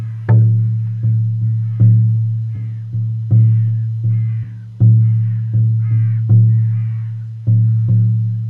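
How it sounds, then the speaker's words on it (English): A shamanic deerskin drum, 18 inches across and hung with feathers, is struck with a soft beater in varied rhythms. The low booming hits ring out loud and close while crows caw faintly in the background. "I think it sounded like a murderer of crows"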